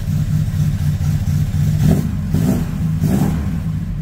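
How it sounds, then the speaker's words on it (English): Volvo B20 engine revving close by in a garage, a loud steady engine drone rising in three distinct throttle blips. "The Volvo's power of the B20."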